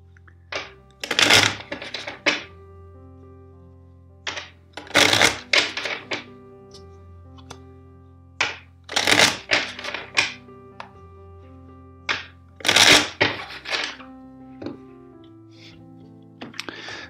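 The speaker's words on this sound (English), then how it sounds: "And first let's shuffle four times." Tarot cards shuffled by hand in bursts of crisp riffling and flicking, several separate rounds spread across the stretch, close and fairly loud over a steady low tonal backdrop, with no talking.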